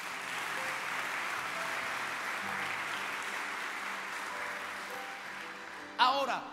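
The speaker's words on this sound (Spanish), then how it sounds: "Denle un aplauso al Señor" A church congregation applauds during a sermon, a soft, even patter of clapping that holds steady and fades out, ending with a brief voice.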